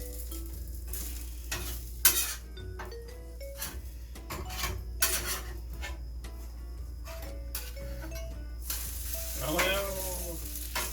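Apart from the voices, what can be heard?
quesadilla frying and sizzling in a pan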